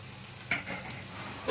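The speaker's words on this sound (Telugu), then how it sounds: "ఉల్లిపాయలు కొంచెం బాగా వేగిన తర్వాత అప్పుడు బిర్యానీ మసాలా దినుసులు వేసుకున్నాం, పలావ్ మసాలా." Onions frying with biryani and pulao masala spices in a pan, heard as a steady low sizzle with two brief stirring scrapes, close and fairly quiet, no talking.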